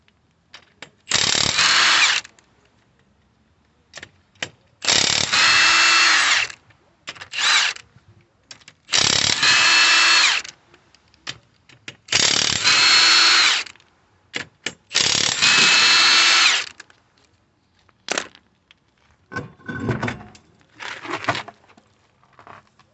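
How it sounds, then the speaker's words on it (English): A ratchet undoes 21mm wheel bolts on a Ford Transit MK8 LWB van at the roadside, with several sustained loud bursts of rapid clicking separated by pauses and quieter handling noises, close and without speech. "We've got 21mm bolts to get off."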